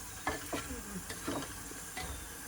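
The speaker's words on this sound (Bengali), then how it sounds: "এবার একটু নাড়া দিয়ে নিই। এটা দইটা নাড়া লাগবে।" Yogurt is stirred in a pot while cooking khichuri, with a few scraping strokes of a spoon against the pot over a soft, faint sizzle.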